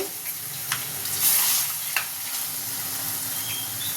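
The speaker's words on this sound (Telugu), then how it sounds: "మంచిగా మసాలాలో కలిపేసి ఒక 5 నిమిషాలు నూనెలో మగ్గియాలి" Native country chicken frying in masala and oil, a bright steady sizzle up close with occasional stirring clicks and scrapes, no voices.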